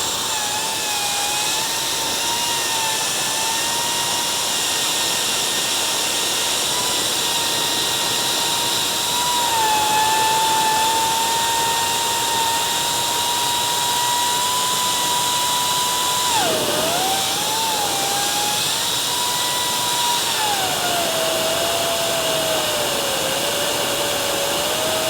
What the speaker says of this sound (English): way more quiet than your normal blow dryer or hair dryer